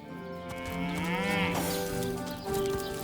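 A cow moos in Divinity: Original Sin, one long drawn-out low call with a rising, wavering pitch, fairly close and clear against quiet game ambience.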